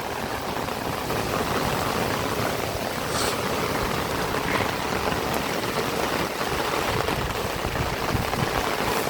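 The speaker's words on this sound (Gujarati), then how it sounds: "રંગપુર ગામની અંદર ભારે વરસાદ પડી રહ્યો છે।" Heavy rain pours steadily on Rangpur village beside farm fields, a dense, even hiss that stays loud and unbroken throughout, with no voices.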